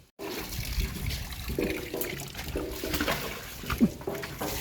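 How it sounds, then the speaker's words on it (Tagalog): A dirty mop being rinsed in water makes a steady sloshing, trickling wash with occasional splashes, close and continuous throughout. "Banlawan mo yan ulit yung map."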